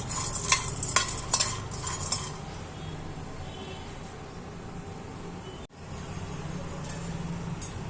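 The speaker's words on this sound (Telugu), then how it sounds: "ఇలా వేయించేసుకోవాలి." Peanuts roast in a pan while a spoon stirs them, giving close metallic scrapes and clinks over a soft, steady frying sizzle that is busiest at the start and quieter later.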